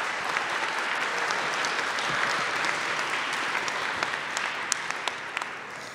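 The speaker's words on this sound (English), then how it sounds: "Let's give another round of applause for all our students who just came up here" Sustained, even audience applause at a school mental health assembly for students who just spoke, fairly distant and continuous with a few sharper claps near the end.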